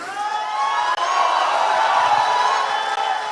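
A live crowd at a folk-music face-off cheers and whoops continuously, with broad, steady roar and scattered shouts filling the whole stretch; clear hand claps are not distinct within the noise.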